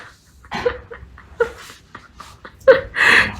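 A human voice imitates a peacock coughing with a series of short, harsh, breathy bursts at close range, finishing with a louder, strained nasal call.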